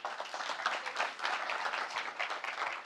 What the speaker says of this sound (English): Can you give him another round of applause, please?